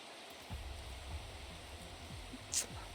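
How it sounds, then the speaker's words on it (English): Steady rain falls in the video game Strange Horticulture, a soft even hiss with faint low rumbles and one brief brighter chime near the end, no talking. "I love the noise of rain."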